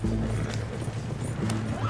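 Horses pull a vehicle with rhythmic hoof clip-clops over a steady rolling rumble, while a faint neigh comes through. The sound is close and continuous.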